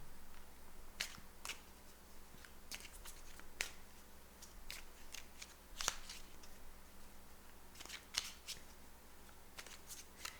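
Tarot cards are shuffled and drawn in a quiet room, giving sharp, scattered snaps and riffling flicks in irregular bursts, close but soft, with no voices.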